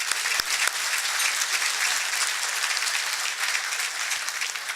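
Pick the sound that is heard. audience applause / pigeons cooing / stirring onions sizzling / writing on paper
audience applause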